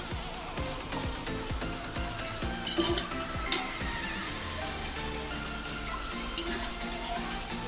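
Soaked dried peas tumble into a metal pressure cooker, making a quick run of rattling clicks and small clatters before settling into softer, scattered ticks over a low background hum.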